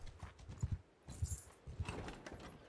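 Horse hooves clip-clop in an even walking rhythm in a video game, a few soft paired beats at a moderate distance, fairly quiet and without speech.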